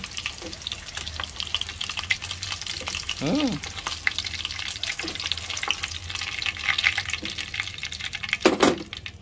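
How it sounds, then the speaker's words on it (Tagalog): Skinless longganisa sausages fry in a pan with a steady crackling sizzle throughout, with a few brief clatters of stirring and a louder burst of crackle near the end. "Kabilang side na lang po at luto ng ating longganisa. Skinless longganisa from Med Snyder."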